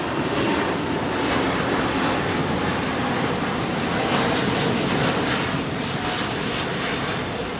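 Finnair Airbus A350 jet airliner on runway 27R at Heathrow, a steady loud broadband engine roar held throughout without fading, no talking heard.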